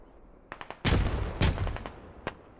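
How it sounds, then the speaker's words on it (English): Grenades thrown over a wall in the game Squad, heard as several sharp close blasts and a couple of heavy booming explosions with fainter pops trailing after. "They're throwing grenades up and over."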